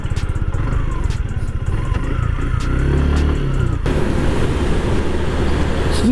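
Suzuki Gixxer BS6 motorcycle being ridden, a steady engine drone with wind noise, close and continuous, the tone shifting partway through.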